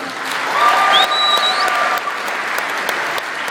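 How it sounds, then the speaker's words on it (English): An audience at a testimony event applauds warmly, a dense wash of clapping that swells slightly then holds steady, with faint tonal whistles or feedback over it. "You can clap for him."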